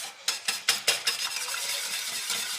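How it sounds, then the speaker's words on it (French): A utensil stirs and whisks three ingredients, including sugar, together in a bowl for gluten-free cookie dough, starting with several quick, close scraping strokes in a rhythmic run, then settling into a softer, steady mixing sound with no talk. "on vient mélanger les 3 ingrédients"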